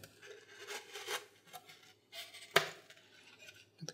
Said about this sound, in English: So I just use a really sharp knife.